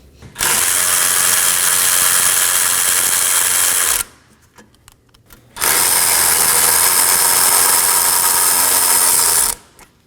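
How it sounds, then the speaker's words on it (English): Two long bursts of a power ratchet or impact driver whirring loudly, each about four seconds, separated by a short pause with faint clicks, while two 10mm bolts are backed out during radiator removal on a 2018-2024 Chevrolet Equinox 1.5L. "Now we can remove our two 10mm bolts."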